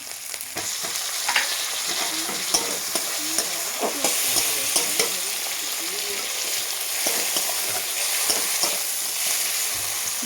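Tomatoes sizzle and crackle steadily in a hot pan, with occasional stirring scrapes throughout.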